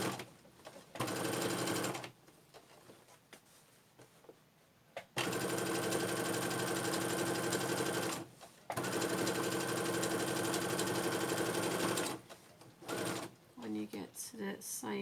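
A sewing machine stitches rucksack fabric in loud, rapid mechanical bursts of several seconds each, separated by short pauses and a few softer clicks.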